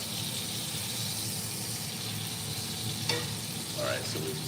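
Beef sears in a hot pan with a steady close sizzle, a couple of brief clinks and scrapes near the end, and no speech.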